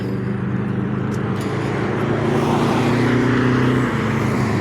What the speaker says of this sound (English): but a jet ski competition